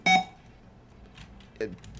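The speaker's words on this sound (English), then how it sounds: "don't you beep at me" A computer beeps briefly at the very start, a short bright electronic tone, with a second quicker beep-like blip near the end, in a quiet room during a Kali Linux demonstration.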